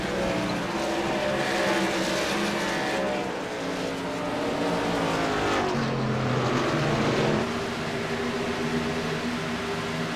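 Race cars in an Indy series event on a sim racing track drone past in a continuous loud engine roar with shifting pitch as cars approach and pass, no talk over it.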